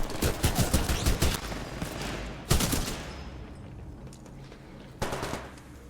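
Rapid automatic gunfire from the video game Titanfall 2, with dense bursts of shots that pause, resume loudly around the middle and flare again near the end amid game noise.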